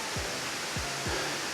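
Kuang Si waterfall in Laos, rushing water forming a steady broadband roar heard from a viewing point near its top, with a few brief low thumps from handling or wind.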